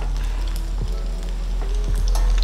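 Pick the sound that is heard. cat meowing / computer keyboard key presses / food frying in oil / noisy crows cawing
food frying in oil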